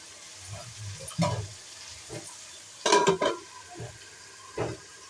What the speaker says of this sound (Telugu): బాగా కలుపుకొని ఒక 5 మినిట్స్ మగ్గనిద్దామండి మూత పెట్టేసి.